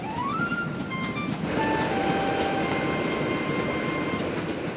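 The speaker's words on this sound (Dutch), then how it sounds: "Het is toch echt de trein die rijdt, Caillou?" A passenger train rolls steadily along the rails with a continuous rumbling, dense rattling roar heard from inside, with faint tonal whines rising and holding above the noise.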